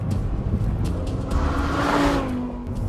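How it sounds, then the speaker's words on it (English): An Audi R8 V10 Plus engine pulling hard under power as the tail steps out through a corner, a loud close roar with a rising tone and a faint tire squeal. "a good example of how the R8 is much easier to break the tail free all the way from corner entry to exit under power"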